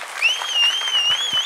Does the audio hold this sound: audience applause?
yes